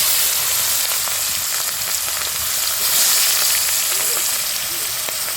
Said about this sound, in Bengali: গরম হয়ে গিয়েছে, এখন আমি পেঁয়াজগুলো দিয়ে দেবো